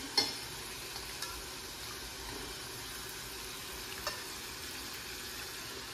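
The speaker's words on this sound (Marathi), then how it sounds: "आता आपण भाजी टाकूया त्याच्यात, बटाटा, शिमला मिरची" Potatoes and capsicum sizzle in a pan over cooked spices, a steady soft frying hiss with a few faint clinks of stirring and no talking.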